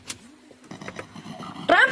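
A car engine in a Spanish-language audio drama starts and surges as it accelerates, with a sharp, loud burst of revving at the end after some quieter mechanical clicks.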